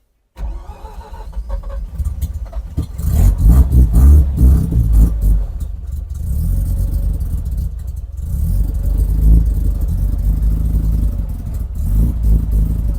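A rotary-engine swapped Mazda Miata cranks and fires, then settles into a loud, steady running drone with rises in revs, close up and without talking.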